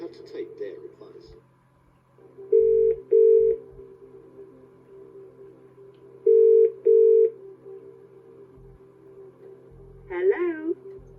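A telephone is dialed in the PS1 Who Wants To Be A Millionaire Junior Edition game: two pairs of short tone beeps over a low hum, with brief speech at the start and end.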